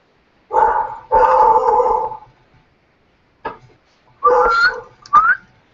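A dog barks several times in uneven bursts, some barks short and sharp, others drawn out into longer howling yaps, fairly close and loud.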